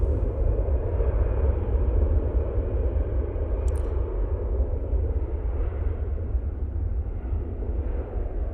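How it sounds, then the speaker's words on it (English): An EasyJet airliner departing from a Manchester runway, a deep continuous rumbling roar, heavy in the low end and steady throughout, heard from a distance with no voices. "EasyJet now lined up for its departure."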